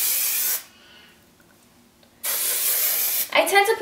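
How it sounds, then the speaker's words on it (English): Rock Your Hair Spray It Hard hairspray sprayed from a can in two loud, steady hissing bursts close up, separated by a quiet pause, with a brief rustle at the end. "I would go ahead and spray it with the Rock Your Hair Spray It Hard hairspray."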